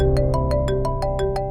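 A mobile phone rings nearby with a rapid, evenly pulsed electronic tone, about eight chirps in quick succession, sounding on its own with no talk.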